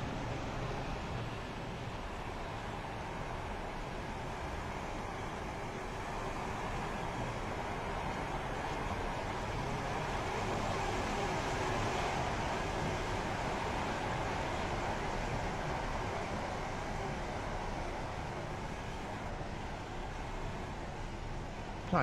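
Train rolling into a station in a Roblox railway game, a steady broad rumble and hiss of the carriage moving at constant, fairly quiet level throughout with no distinct events.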